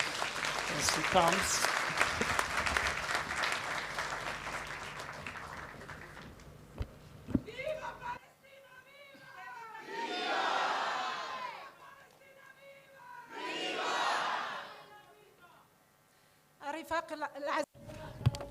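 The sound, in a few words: audience applause as speaker comes to the stage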